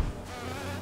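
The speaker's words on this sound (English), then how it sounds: "He is a big bee." A giant bee enemy in the Hollow Knight video game buzzes steadily and loudly for under a second, a continuous droning hum with a low thump at the start and no talking.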